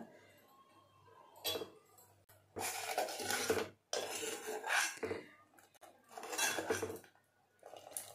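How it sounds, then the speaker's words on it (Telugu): A spoon stirs a jaggery and beetroot jam mixture in a pot, making close scraping and clinking strokes in uneven bursts with quiet gaps between them, and no talk over it. "ఈ బెల్లం చక్కెర కరిగేంత వరకు కొంచెం కలుపుకుంటూ ఉండాలి."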